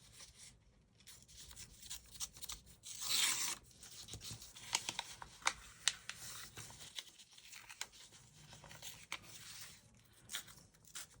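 A scrap page being torn and peeled from a booklet of poems, close and quiet, with a longer rip near the start followed by scattered crinkles, small tugs and sharp paper snaps.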